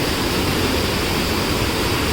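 Steady, loud rushing roar of a hidden waterfall in forest hills near Salur, Vizianagaram, Andhra Pradesh, with a broad, continuous wash of water close by and no voices.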